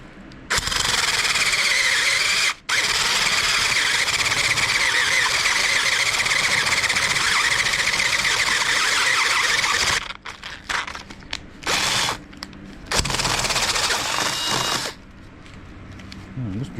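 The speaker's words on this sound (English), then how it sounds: "This drill's about wore out too." A worn-out electric drill with a tightened chuck bores into material for a DIY boat rod holder, whining loudly and steadily for about ten seconds, then stopping and restarting in short bursts.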